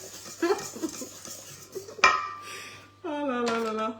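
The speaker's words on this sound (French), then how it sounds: "On remue." A utensil stirring tuna and zucchini in a metal pan gives a few scattered metallic clinks and scrapes, with the loudest knock near the middle, before a voice starts talking at the end.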